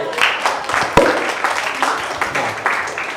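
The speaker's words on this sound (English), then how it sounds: "give us a round of applause" A seminar audience at a youth sustainability summit claps in a round of applause, a dense, lively burst of close clapping that carries on for a few seconds.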